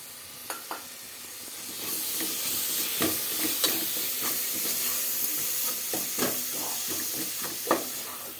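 Half-ground paste being stirred into chicken biryani masala in a pan, loud continuous sizzling with repeated scraping strokes of the spoon, close up and without talk.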